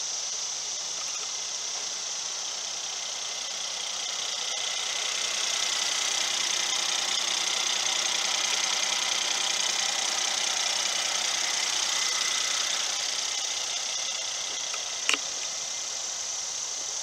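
A 2016 Mercedes-Benz E400 4MATIC coupe's 3.0L biturbo V6 idles steadily, a smooth even hum with a faint whine that swells slightly midway and holds constant, with no talking.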